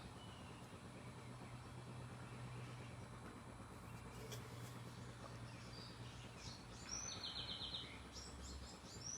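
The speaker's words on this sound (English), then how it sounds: "The birds are chirping." Faint birds chirp in scattered bursts over a low outdoor hum of distant traffic, with a few brighter calls toward the end.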